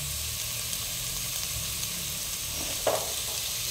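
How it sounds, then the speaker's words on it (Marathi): Onion with salt and spices such as kasuri methi frying in a pan for chicken khichdi, giving a steady close sizzle throughout with a brief clink of stirring near the end. "कांदा लगेच भाजण्यासाठी आपण थोडंसं त्याच्यामध्ये मीठ टाकून घेऊ"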